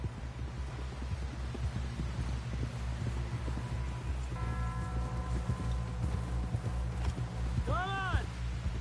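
Horse hooves walking in the video game Red Dead Redemption 2, a soft steady clip-clop over a low rumbling game soundscape, with tonal music and a brief rising whistle-like sound near the end.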